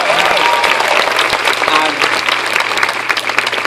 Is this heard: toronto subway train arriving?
no